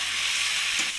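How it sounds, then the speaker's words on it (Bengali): Cauliflower, pumpkin and potato are stir-fried with turmeric, cumin and coriander powder, giving a continuous close sizzle with a brief scrape of the spatula near the end. "এবার আমি মশলার সাথে সবজিটাকে ভালো করে কষিয়ে নেব"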